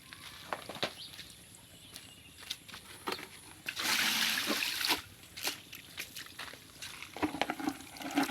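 Water is poured over freshly dug wild vegetable seedlings to soak their roots: soft trickles and drips, then a louder splashing pour for about a second midway, followed by more small drips and taps, with no talk.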